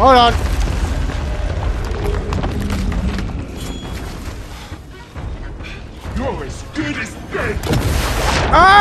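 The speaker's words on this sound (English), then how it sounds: "I need to shoot him! With the cannons!" Ship cannons firing in the Sea of Thieves video game, producing loud low booms and mechanical clunks mixed with game noise while players shout excitedly over it.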